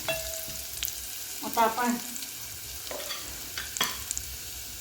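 Chopped onion sautéing in a pan with a little salt, a soft stir-fry sizzle with stirring scrapes and utensil clinks at a moderate level, while someone speaks briefly.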